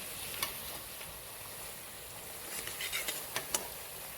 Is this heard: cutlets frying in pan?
yes